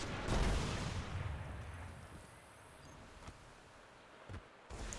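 Rocket launcher fire and explosions in the shooter Destiny, a heavy boom at the start decaying into rumble, then a few fainter thuds and clicks.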